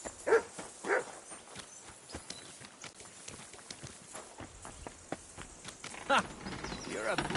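Dog barking in the medieval village world of Kingdom Come Deliverance 2, a few sharp close barks near the start and again later, among hoof clops, footsteps and quiet voices.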